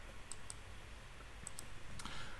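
A few sharp, light computer mouse clicks, made while taking measurements in software, sound near and brief over a low steady background hiss. No one speaks.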